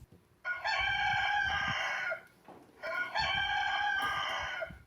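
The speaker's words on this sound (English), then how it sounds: "do you know the sound that a rooster makes?" A rooster crows twice in succession, each call long and loud, with quiet pauses between and no talking.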